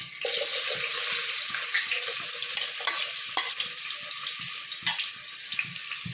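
Chopped onions frying in a few drops of oil with cumin seeds for a home-made haleem, a steady close sizzle throughout with occasional clinks and scrapes of stirring.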